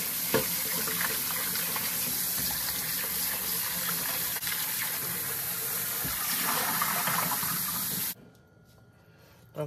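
Pork neck bones are rinsed under a running kitchen tap, a loud, steady gush of water splashing into a sink for about eight seconds before the flow cuts off abruptly.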